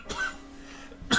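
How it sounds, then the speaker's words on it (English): A person coughs twice close to the microphone, a short cough at the start and a sharper, louder one near the end, with a quiet gap between them. "Sorry for the coughing, guys."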